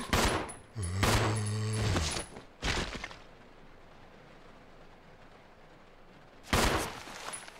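Gunfire from the survival horror video game Resident Evil 0: a few loud bursts of shots in quick succession, separated by quieter gaps, with game sounds between them and no talking.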